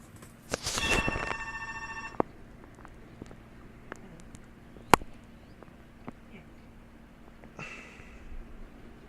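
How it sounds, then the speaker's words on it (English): A telephone gives one loud, bright ringing burst near the start and then falls quiet. A few sharp knocks and faint shuffling follow in a quiet room. "there's a phone call"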